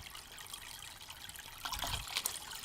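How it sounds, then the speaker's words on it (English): Water is poured back into an 8 gallon nano aquarium, a steady soft trickle heard close. It swells into a fuller splashing pour near the end of the short stretch. "Pour it back in, and we'll put in just some of this water into the tank."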